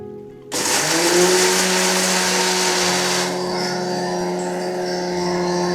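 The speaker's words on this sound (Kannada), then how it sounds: "ಈ ಸ್ವಲ್ಪ ಮಿಕ್ಸಿಗೆ ಹಾಕ್ಬಿಡ್ತೀರಾ" A kitchen mixer grinder starts abruptly and runs close and loud, a steady high whirring whine that eases slightly in pitch and intensity partway through.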